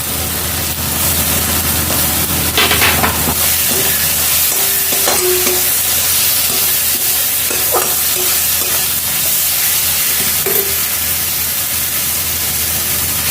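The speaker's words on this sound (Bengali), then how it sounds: "তেলটা ছেড়ে দিয়েছে, এবার আমি আলুগুলো এর মধ্যে দিয়ে দেব।" Potatoes tipped into fish curry masala frying in oil for a Bengali fish tel jhal, giving a steady close sizzle with a few stirring scrapes and clinks, no talking.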